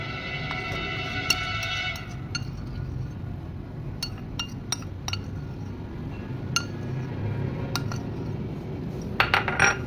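A metal spoon clinking against a glass or ceramic bowl while cornflour is added, a few scattered sharp taps over a soft background hum, then a cluster of clinks at the end.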